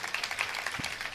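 A crowd at a comedy speech by the actor Vivek gives faint, thin, scattered applause, with soft rapid claps heard from a distance.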